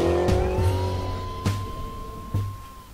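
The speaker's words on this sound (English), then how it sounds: "I drive a Mustang, it's American muscle." A Ford Mustang muscle car drives along with a steady engine drone, a faint high whine, and three sharp thumps or bumps spaced through the passage, fairly loud and close with no voices.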